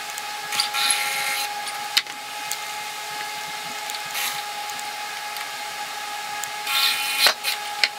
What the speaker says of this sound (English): to drill the pocket holes in